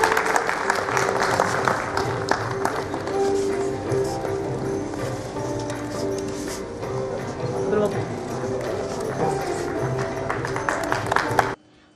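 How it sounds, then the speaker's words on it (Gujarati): An audience at a community ceremony honouring a sculptor breaks into loud, sustained applause that fills the hall for about eleven seconds, dense and close, with voices mixed in, then it stops abruptly. "ફરી એકવાર જોરદાર તાળીઓથી એમના"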